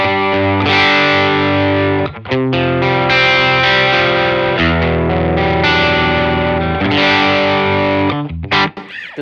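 Electric guitar driven through a Keeley ODR-1 overdrive pedal, loud sustained distorted chords and ringing notes played in a couple of phrases with brief breaks, close and full-bodied with no talk.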